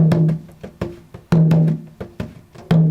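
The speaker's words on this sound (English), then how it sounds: "really common, kind of West African sort of rhythm," A hand drum pattern with sharp slaps and deep resonant tones, repeating a short syncopated rhythm up close.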